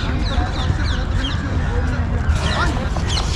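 Birds chirp and call repeatedly in a garden in New Delhi, with poultry-like clucking and short bright calls under people talking nearby.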